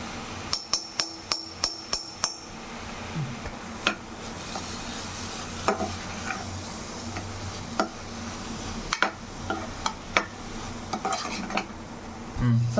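Sweet filling for purnam burelu thickens in a pan with ghee while a spoon stirs it, first a quick run of sharp metallic taps against the pan, then scattered clinks and scrapes over a low background.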